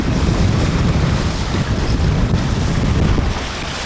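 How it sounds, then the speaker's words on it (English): A boat smashes through waves cresting over its bow in salty open water near a mooring, a loud, continuous roar of rushing water and wind buffeting the microphone. "there's waves like cresting over the bow or smashing through them."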